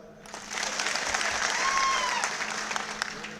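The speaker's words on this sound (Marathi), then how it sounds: "हरिसिंग, याच्यासाठी टाळ्या वाजवा." Crowd applause for Harisingh, a taluka chief and party worker, at a Bachchu Kadu speech, a broad, steady wash of clapping swelling in the middle and tapering slightly, with faint voices mixed in.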